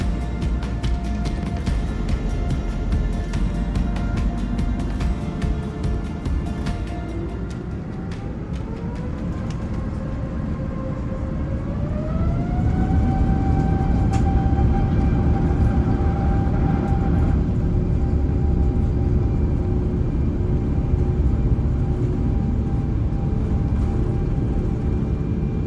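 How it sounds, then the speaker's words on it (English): Turkish Airlines airliner taking off from Istanbul Airport, a steady loud cabin roar of engines with a rising whine as thrust builds and the aircraft climbs, continuous throughout with no talk. "Taking off out of Istanbul Airport, we get some great views of Istanbul bathed in morning light"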